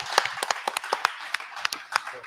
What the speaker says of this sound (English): Can we get a little cheer for Stephen?